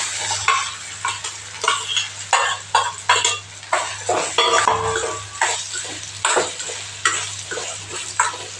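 Indian gooseberries stirred in sesame oil in a pan for pickle, with steady sizzling and repeated scraping and clinking of a spoon against the pan, close and fairly loud, without talk.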